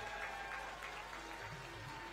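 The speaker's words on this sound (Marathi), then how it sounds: "सर्वांनी जोरदार टाळ्या वाजवाव्यात" Applause from an audience at a university event at Gondwana University, Gadchiroli, during an exhibition and prize-giving ceremony, faint and distant, a steady wash of clapping throughout with no voices.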